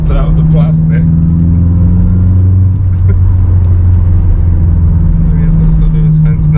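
Honda S2000 fitted with a Skunk2 Megapower exhaust, heard from inside the car: a loud, steady droning engine tone with a deep rumble, sustained throughout, with cabin plastics rattling under it.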